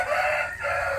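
Chickens clucking inside a plastic-matted coop, a steady, fairly loud continuous murmur of poultry calls with a brief dip midway.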